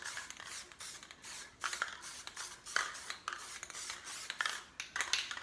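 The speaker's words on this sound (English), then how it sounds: "they spray paint like this." Repeated short hisses of an aerosol spray can, several quick bursts in an uneven rhythm, fairly close with quiet gaps between.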